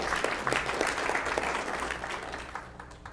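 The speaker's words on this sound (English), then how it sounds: "we'll give Mr. Davis a round of applause" An audience at a school district board meeting applauds a teacher award winner, with clapping strongest at the start and gradually thinning and tapering off.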